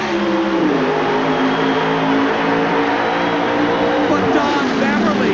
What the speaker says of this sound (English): bringing his Oldsmobile to the starting line to do battle with the Pontiac Trans Am Firebird of Mark Powick